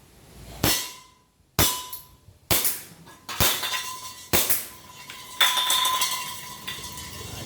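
A toy gel blaster fires about six sharp, loud snapping shots at irregular intervals roughly a second apart, each with a brief metallic ring that fades.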